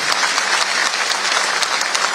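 Dense, steady applause from an audience at a public event held by a state chief minister for Bihar's foundation day, a continuous close clatter of many hands with no speech over it.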